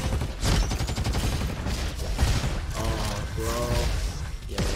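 Rifle gunfire in a roguelite video game: rapid repeated shots and heavy impacts run continuously and loudly for several seconds, with a few short tonal effect sounds partway through.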